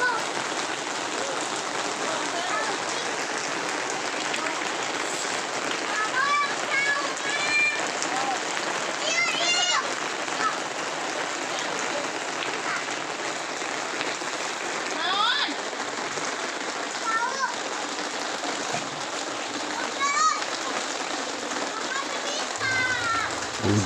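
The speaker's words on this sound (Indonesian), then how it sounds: "Suasana hujan di Kampung Cikakak." Steady rain hisses down without a break at a village wedding preparation, a dense even wash of sound, with faint voices and bird-like chirps in the background.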